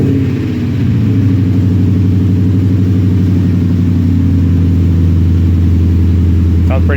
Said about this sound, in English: First startup with the long tubes and BAM mufflers.